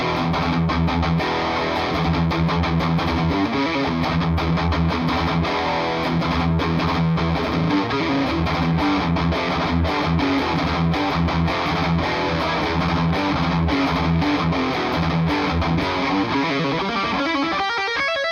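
Electric guitar played through a Blackstar HT-5RH amp with the gain fully up and the ISF control turned to the US side gives a dense, distorted, sustained tone with chugging riffs for about eighteen seconds, loud and unbroken, with no voices.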